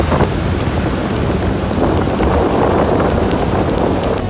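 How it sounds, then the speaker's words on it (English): Intense monsoon rain pours down in Thailand: a loud, steady, close downpour hissing without a break, with no voices. "we just got caught in a monsoon rain on the way back"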